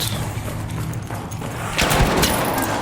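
Gunfire from the video game Arc Raiders on the Stella Montis map: a sudden burst of sharp, loud shots about two-thirds of the way through, over steady game ambience.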